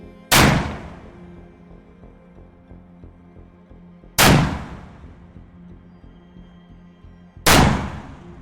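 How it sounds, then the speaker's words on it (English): Three loud, sharp rifle shots from a CheyTac M200 Intervention firing .375 CheyTac rounds at a range, spaced several seconds apart, each with a booming echoing tail. "we just did our initial group with the 375 CheyTac. This is the M200 Intervention."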